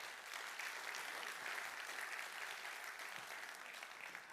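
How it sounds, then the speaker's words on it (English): Audience applause at a conference on digital transformation and security, a steady, dense wash of clapping from a room full of people, sustained for several seconds at moderate volume. "So a quick round of applause for everybody who submitted these."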